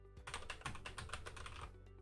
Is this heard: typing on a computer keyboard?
yes